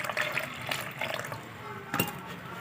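Clean tap or distilled water is poured steadily into a vessel during a gold refining process, a continuous splashing trickle at moderate level with a brief stronger gush near the end.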